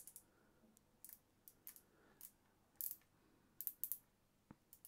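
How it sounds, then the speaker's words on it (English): Star drag on a Seasir Cast-X fishing reel being adjusted, giving a string of sharp, close clicks in small irregular groups over a quiet background. "Okay, first of all, Dragstar, it does click."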